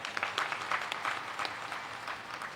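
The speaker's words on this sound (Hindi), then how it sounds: "एक बार फिर से तालियां बजा" An audience at a religious discourse on cows in Ranchi, Jharkhand claps together, a brief burst of many hands with rhythmic peaks, moderately loud and heard from within the gathering.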